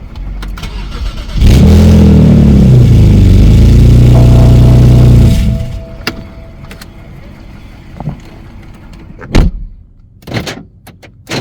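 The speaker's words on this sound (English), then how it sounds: "start the engine for a few seconds, then shut the engine off" A 2009–2011 BMW Z series car engine cranks and catches with a loud burst, idles for a few seconds, then shuts off, followed by quieter clicks and door or key sounds.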